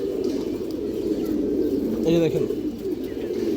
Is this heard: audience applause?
no